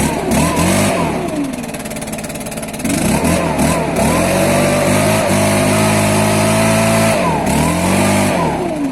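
A small Stihl gasoline engine runs loud and close as it warms up, its pitch climbing and falling through repeated revs, dipping to a lower idle for a moment before surging again.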